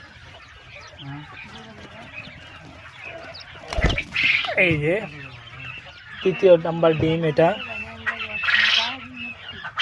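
Young adult quail, hatched in a home incubator and just starting to lay eggs, give close, repeated calls in short bursts while a person talks nearby.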